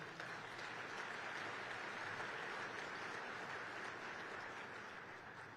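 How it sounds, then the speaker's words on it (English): Sustained applause from a seated crowd at a mayor's State of the City address in El Paso, a steady wash of clapping heard from a distance that tapers slightly at the end. "would you please join me in giving them a round of applause?"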